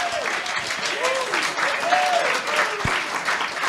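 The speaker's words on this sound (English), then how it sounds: "Okay, so let us applaud Dr." An audience claps steadily for Dr. Bill Watson on a foreign policy panel at Colorado Christian University, a moderately loud, even wash of applause with faint voices rising briefly within it.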